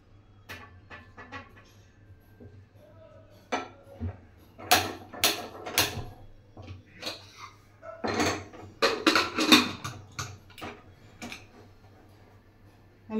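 Cookware clatters as banana flower with water and a little salt is set to boil in a pressure cooker, with scattered metallic knocks and clinks, sparse at first, then a dense, louder cluster midway, over a low steady hum.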